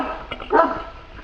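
Fila Brasileiro dog barks inside a kennel stall walled with zinc roofing sheets, a couple of short barks near the middle of an otherwise quiet, slightly reverberant moment.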